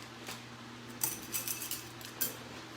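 Short metallic clinks and taps of a brush or stick stirring acrylic paint in a small container while painting a sunflower porch sign, a few quiet scattered strokes close by over a low steady hum.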